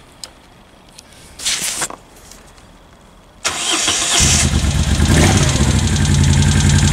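A Moto Guzzi motorcycle engine with the choke on is cranked briefly, then fires and settles into a loud, steady running note that holds to the end, with no talking.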